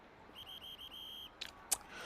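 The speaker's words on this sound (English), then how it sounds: "Whistle was blown late. Took a while there, but it's finally blown." A referee's whistle is blown several times in quick succession during a junior college football playoff game, the series of sharp, shrill blasts followed by a couple of brief crowd noises.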